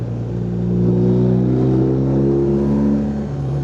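A motorcycle engine revs loud and close, swelling and easing as the bike is hustled through a series of bends on a road trip in Spain and Portugal, with a steady low drone of rising and falling harmonics throughout.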